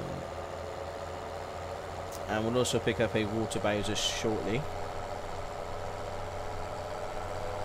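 A tractor engine in Farming Simulator 2017 idles with a steady low drone throughout, while someone talks over it for a couple of seconds in the middle.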